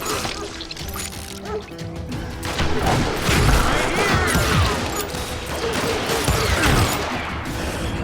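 Rapid covering gunfire in the Western shooter game Call of Juarez Gunslinger, a dense, loud barrage of overlapping gunshots and impacts that continues steadily throughout with a busy, chaotic battle mix behind it.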